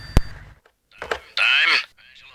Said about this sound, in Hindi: टेलीफोन आ रहा है भाई